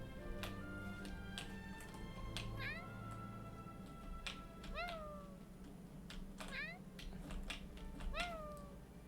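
A voice actor meows as a cat in the video game Genshin Impact, giving several short, rising meows spaced a second or two apart over faint background clicks and hum.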